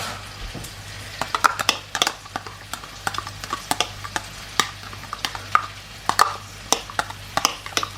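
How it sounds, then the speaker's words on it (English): A spoon stirs chopped vegetables through sauce for a herby parsley chicken dish, giving irregular wet scrapes and clicks against the bowl or pan, close and fairly loud with no voices. "I need to coat the vegetables in the sauce, making sure that everything is covered"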